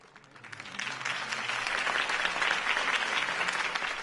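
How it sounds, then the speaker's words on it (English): Crowd applause and cheering rise quickly and hold steady at full strength after a campaign speech in the Batman Telltale game, a dense sustained wash of clapping. "If only Mr. Wayne, my campaign's largest backer, could have heard that applause"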